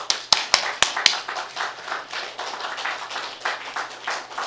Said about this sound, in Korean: 서길증 회장님을 위해서 박수 한번 쳐주십시다